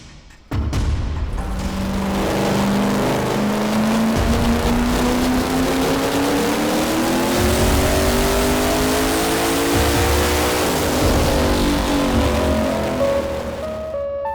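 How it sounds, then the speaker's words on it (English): A stock-headed LS-engined drag car on a chassis dyno makes a loud, sustained run, the engine note climbing steadily in pitch as it revs through the pull, close and unbroken for over ten seconds. "Over on the dyno, Midwest is trying to decide how much power they want to lean on the car for this next pull."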